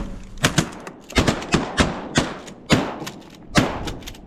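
Shotgun blasts during a duck hunt, a rapid series of sharp, close, punchy shots spaced irregularly over a few seconds, with no talk in between.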